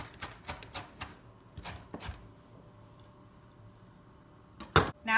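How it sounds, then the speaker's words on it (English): A knife chops cilantro for salsa verde on a cutting board in a run of sharp, close taps, clustered early and then spaced out, followed by a pause and a final loud burst of clatter. "So if you love cilantro flavor, give it a really good chop."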